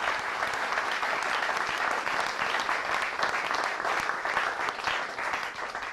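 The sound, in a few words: audience applause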